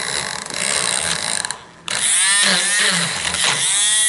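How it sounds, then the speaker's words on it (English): A Dremel rotary tool grinds steadily through a faux travertine plaster column, a close, loud whine that cuts out briefly and then resumes. "this is not the best Dremel"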